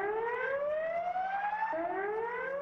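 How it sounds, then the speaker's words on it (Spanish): A loud wailing evacuation alarm siren during a school drill for the Cotopaxi volcano sweeps steadily upward in pitch, drops abruptly, then begins rising again; no voices. "El sonido de las alarmas indicaba que era el momento de evacuar."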